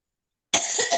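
A single close, loud cough bursts out after a moment of silence, a short rough expulsion of breath from a person who is still unwell after returning from travel in hot weather.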